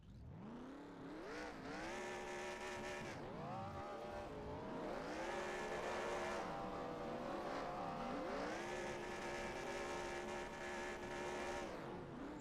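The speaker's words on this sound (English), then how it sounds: "Synchronized donuts." Race cars spin synchronized donuts after a winter-series finale at an Iowa track, their engines rising and falling together in repeated rev cycles, loud and sustained with a faint edge of tire noise.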